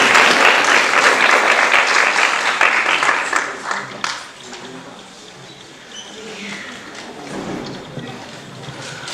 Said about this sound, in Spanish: Démosle un fuerte aplauso a Tania de Sá Oliveira.